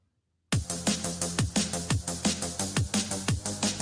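A full electronic beat starts abruptly, with thumping kick hits and a sidechain-compressed bass that ducks under each kick, then swells back up between hits in a steady rhythm.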